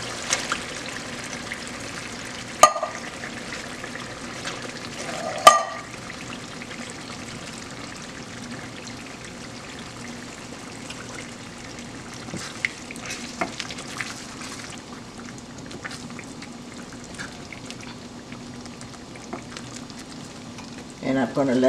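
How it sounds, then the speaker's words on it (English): Pink salmon poured into a hot pan with its canning liquid, frying with a steady low sizzle and crackle, a couple of sharp knocks early on and occasional stirring clatter, with no talk. "I'm just going to add my salmon with the liquid"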